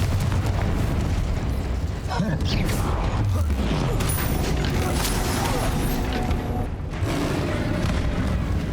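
Confringo spell blasts in Hogwarts Legacy burst amid dense, continuous combat noise, booming explosive rumbles layered with mechanical creaks and clatter, while a voice calls out spells over it.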